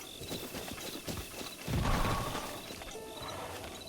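Horse hooves in Zelda: Breath of the Wild, a steady clip-clop of footfalls with mechanical clatter, swelling into a heavier thud midway and continuing at moderate loudness.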